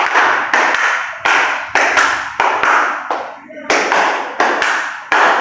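Students in a classroom clapping game beat out a pattern of sharp, unified claps in short groups separated by brief pauses, loud and close, with a voice calling counts between rounds.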